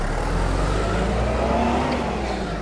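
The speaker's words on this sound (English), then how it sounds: "Listen to the sound of the engine." Steady, loud engine drone from a refurbished New Holland 8030 4WD tractor with a 4-cylinder NEF engine, heard up close with a slight swell in the middle and no voices.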